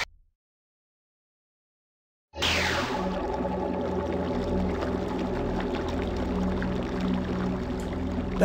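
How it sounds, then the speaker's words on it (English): Fast-flowing water in the video game Marathon 2 bursts in after a brief silence, then rushes steadily and loudly with a constant churning roar and faint tonal hum beneath. "That is some fast water."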